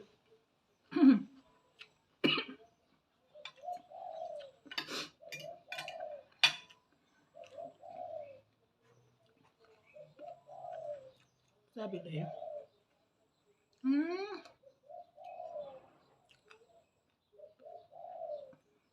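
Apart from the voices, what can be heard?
doves cooing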